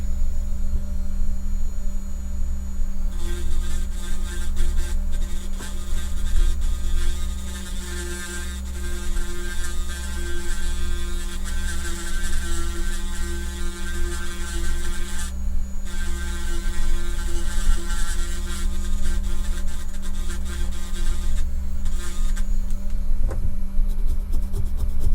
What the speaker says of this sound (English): I'm going to slow down my grinding pen speed a little bit